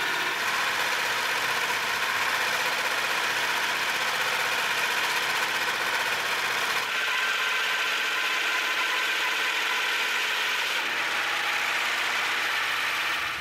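A homemade wooden band saw mill with a dull blade cuts steadily through a log, giving a continuous loud engine drone and a high rasping whine that shifts slightly partway through.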